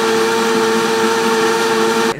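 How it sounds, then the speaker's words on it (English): A Vitamix blender whirs at high speed with a steady, loud motor drone and bright high whine, running continuously before cutting off abruptly near the end. "It's the best blender on the planet."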